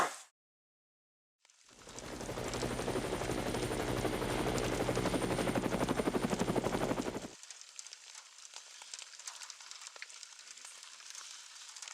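A helicopter's loud, steady rotor chop with dense rhythmic pulsing fills several seconds after a brief silence, then cuts off abruptly, leaving a quieter crackling background.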